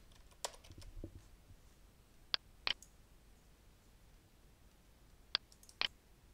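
Mouse clicks while working in Google Maps on a computer: a few quiet, crisp clicks, mostly in close pairs, spaced apart against a faint background hush.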